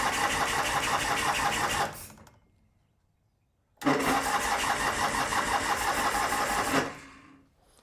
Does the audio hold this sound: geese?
no